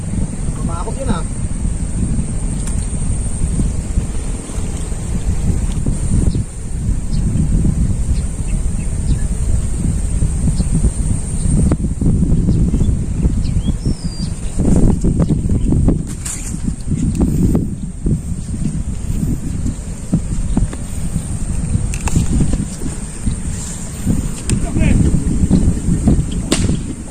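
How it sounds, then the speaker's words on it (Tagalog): Strong typhoon wind roars and buffets steadily outdoors during a hunting trip, loud and continuous with gusty surges and sharp knocks, while people talk intermittently underneath. "Masyado mahangin."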